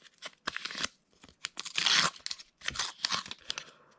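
Little paper bag of Bakugan Gen 3 cards torn open by hand, a run of close, crisp tearing and crinkling bursts, one longer rip in the middle, with no talking.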